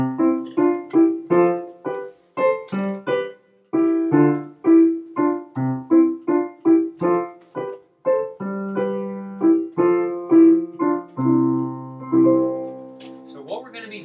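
A TV theme melody played on piano, single bouncy notes in a steady rhythm with short gaps, ending on a held chord, clear and close with no talk.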